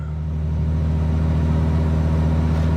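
A Ferrari 296 GTS hybrid held in manual mode, its engine giving a steady, loud, close-up drone that builds slightly over a few seconds.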